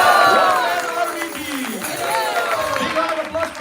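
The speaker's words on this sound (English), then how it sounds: "Big round of applause for the lighting team keys" A crowd at a devotional community gathering cheers and shouts with overlapping voices and scattered clapping. The sound is loud at first and then settles into a lively, sustained din.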